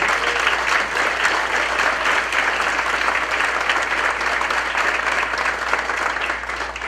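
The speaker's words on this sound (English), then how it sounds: "Big round of applause" A jazz concert audience gives a guest artist a big round of applause, loud and sustained, with the clapping holding steady before easing slightly at the end.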